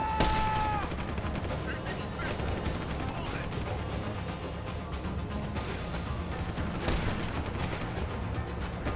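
Sniper rifle gunfire in a video game cracks out in sharp loud reports, one at the start and another mid-way, amid a dense, busy din of continuous game combat noise.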